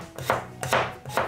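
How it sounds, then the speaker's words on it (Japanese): A knife cuts through carrot on a cutting board in three crisp, evenly spaced chops, each a sharp thunk against the board, close and clear with no talking. "人参は半分に切って"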